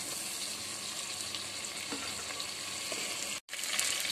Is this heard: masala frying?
yes